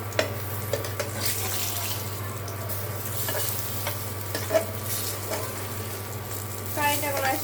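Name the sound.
eggplant frying in a pan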